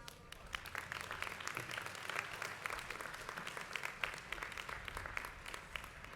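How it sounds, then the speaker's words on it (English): Audience applause at a high school graduation ceremony, a sustained crowd of many clapping hands with sharp individual claps standing out, fairly distant and steady throughout. "Please give them a round of applause."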